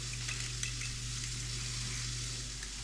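Butter melting into a sauce stirred in a hot pan gives a steady, close sizzle with a low hum underneath, constant throughout without a break.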